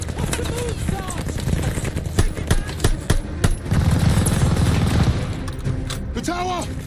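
Tower-mounted machine gun fire in the video game Call of Duty Vanguard, rapid bursts and booms mixed with in-game shouting soldiers and battle noise, loud and dense throughout.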